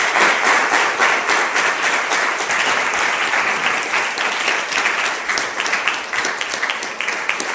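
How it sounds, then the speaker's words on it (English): Loud, continuous audience applause for panelists after a university panel discussion on health care reform, a dense and fairly uniform wall of clapping that holds through the whole stretch. "can we have another round of applause for our panelists?"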